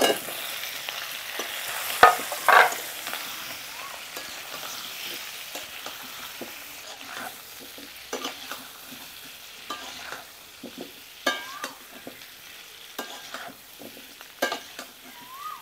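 Potatoes fry in a pan with cumin, chili and turmeric powders for a potato curry, giving a steady sizzle broken by repeated scraping and clinking as the mixture is stirred, close and fairly quiet.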